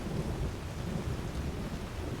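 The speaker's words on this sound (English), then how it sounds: "Wow, this storm will never end" A thunderstorm in the video game Skyrim, a steady low rumbling roar of rain and distant thunder filling the background without pause.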